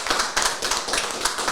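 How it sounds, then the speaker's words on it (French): A brief burst of audience applause at a talk on secularism, quick clapping lasting little more than a second and heard close and fairly loud. "je pense qu'on peut l'applaudir"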